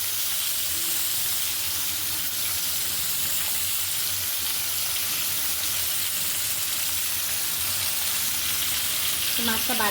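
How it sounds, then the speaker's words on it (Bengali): Pangas fish frying in hot oil in a home kitchen, giving a steady, continuous sizzle and hiss close by for the whole stretch, with a brief clink of utensils near the end. "তো মাছ ভাজা দিয়ে দিচ্ছি মাছটা বাজা"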